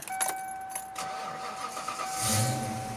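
A 1993 Ford Mustang with long-tube headers starts up, a brief crank and catch that settles toward idle, heard faintly from inside the car after a light jingle of keys.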